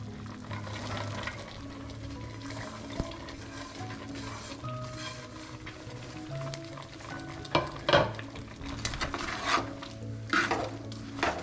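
Shallots being stirred into pieces of country chicken as they cook in a pan, a steady close sizzle and frying hiss with scraping and stirring clatters that grow louder toward the end, with no talking.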